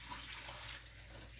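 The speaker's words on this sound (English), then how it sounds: "drain them from the water, get rid of all the extra starch" Soft, steady trickle of water draining off sliced potatoes in a home kitchen, a faint continuous splash with no talk over it.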